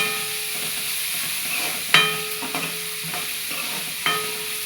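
Onion stir-fried in a pan for Marathi phodnichi poli, a steady soft sizzle punctuated by a few sharp spatula scrapes and knocks against the pan.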